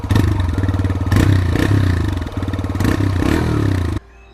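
A TVS Raider 125 motorcycle's 125 cc single-cylinder engine revs with a gruff, grunty exhaust note, loud and close, rising and falling through several throttle blips before cutting off abruptly.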